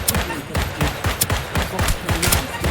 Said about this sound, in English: I just kept firing to break the shield